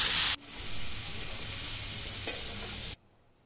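Pumpkin pieces sprinkled with turmeric stirred in a frying pan, a steady bright sizzle with scraping, one sharp clink partway through, cutting off abruptly near the end.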